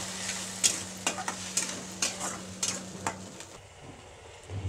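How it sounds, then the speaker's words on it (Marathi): Food fries on medium heat while a utensil stirs and scrapes the pan, giving a soft sizzle punctuated by regular sharp clinks. The sizzling fades and quietens toward the end. "चांगलं मध्यम ते मिडियम आचेवरच त्याला खरपूस चांगलं तळून घ्यायचं"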